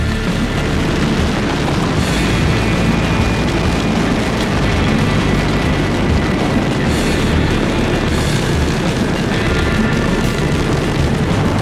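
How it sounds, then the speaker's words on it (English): A mascletà firecracker barrage set off by a fireworks crew rages as a dense, nonstop wall of explosive crackling and booming, loud and unbroken throughout. "Spectacular mascleta."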